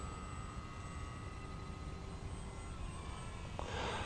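A Maule M7 light airplane passes in a flyby, heard as a steady, fairly faint engine drone from a distance, with a brief rise in broadband noise near the end.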